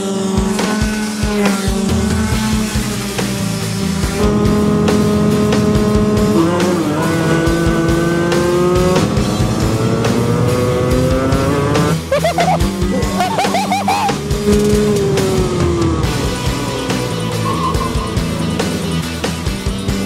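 Small engines whine and rev continuously, pitches rising and falling as karts accelerate on a track; loud and close, with brief tire scrubbing and no clear speech.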